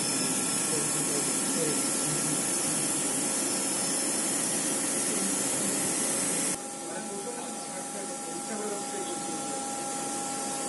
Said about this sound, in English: This type of accurate machining of valve body is not possible by manual machining. It is only possible by machining using CNC machine.